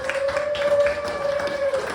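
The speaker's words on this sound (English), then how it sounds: "Give her a round of applause." An audience at a comedy hypnosis show claps briefly for a volunteer, soft scattered clapping under a steady tonal hum, fairly faint.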